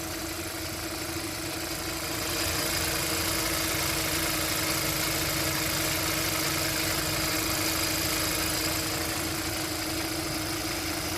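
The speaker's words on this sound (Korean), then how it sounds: "엔진 소리 한번 들어보시죠." A freshly rebored 2012 Kia K7 2.4 GDI Theta II engine idles close by with a steady, even mechanical hum and faint vibration, growing slightly louder after a couple of seconds and holding constant.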